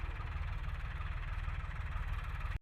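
A tractor engine drones steadily while sowing coriander in a farm field, a constant low rumble that stays close and even throughout.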